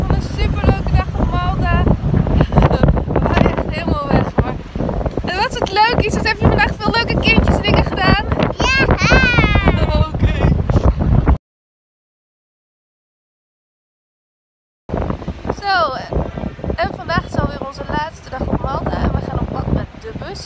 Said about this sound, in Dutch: Het is echt super winderig